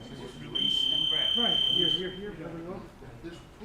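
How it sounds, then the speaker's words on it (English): At a jiu-jitsu training session, a round-ending timer sounds as a steady, high electronic buzz lasting about a second and a half, while people talk nearby. "the bell just went off"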